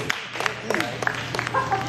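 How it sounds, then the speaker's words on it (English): Congregation clapping hands during a church service, a short burst of scattered claps mixed with voices and cheering, moderately close. "Give the hand clap for our victory."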